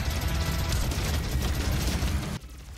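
Chain gun from the video game DOOM firing a dense, continuous rapid burst of loud gunfire for over two seconds, then cutting off abruptly into quieter background.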